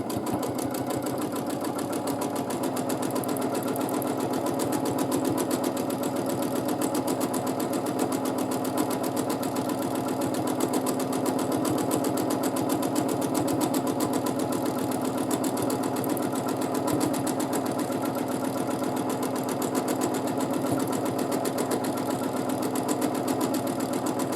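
A sewing machine runs steadily and closely for the whole stretch during free motion quilting, a continuous fast mechanical whirr with rapid rhythmic ticking.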